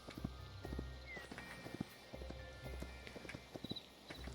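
Horse hooves clip-clop steadily on the ground in the Hytale video game, a rhythmic run of close, moderately soft hoofbeats with faint rustling and ambient background, no talking.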